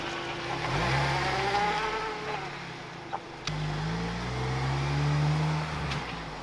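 A car with a loud exhaust drives off, its engine revving and rising in pitch through several surges, heard from nearby at moderate loudness.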